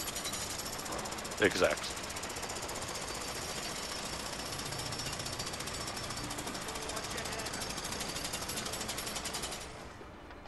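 In the video game A Way Out, a jackhammer pounds in a fast, relentless rattle that runs steadily for about nine seconds before cutting off. Brief talk cuts across it near the start.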